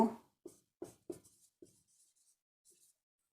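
Writing on a board during a lesson: a handful of short, distinct strokes and taps in quick succession, close and fairly quiet, then fading to faint scratches.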